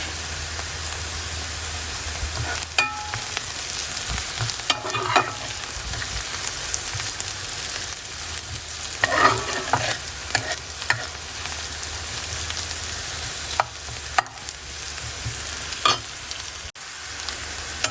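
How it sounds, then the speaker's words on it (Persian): Onions frying in oil with salt, stirred in a pan: a steady broadband sizzle runs throughout, punctuated by scattered scraping clicks of a utensil, fairly close and with no voices. "پیازمون رو توی روغن تفت میدیم"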